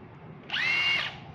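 A cordless hammer drill with two speed settings runs in a brief, loud whining burst of about half a second, rising sharply and cutting off, close to the microphone with no one talking.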